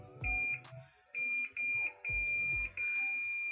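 A multimeter on continuity beeps repeatedly while probing a badly shorted IC on a burned RCF 4PRO amplifier module, with sustained tones broken by short gaps and low thumps from the probes.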